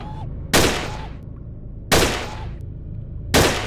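Three loud, sharp gunshots in the Gun Club VR S.W.A.T DLC shooting game, spaced roughly one and a half seconds apart, each ending in a long reverberant tail over a low steady hum.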